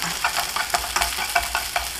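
Onion stir-fried in a pan for stir-fried udon, a brief close burst of sizzling with quick rhythmic spatula scrapes and taps, no voices.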